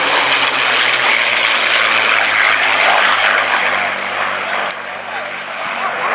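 Republic P-47 Thunderbolt warplane flying at an airshow, a loud continuous propeller-engine drone that fades slightly toward the end, with a voice talking over it.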